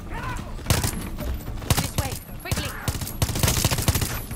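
Rapid gunfire in the video game Far Cry 6, repeated bursts of shots cracking in quick succession throughout, with horse movement and faint voices in the mix.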